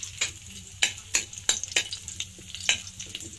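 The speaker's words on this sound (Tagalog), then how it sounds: "Ito ng luya. Sinasangag ko na." Ginger frying in a pan with oil, a sizzle under a run of sharp stirring scrapes and clinks repeating about every half second, close by.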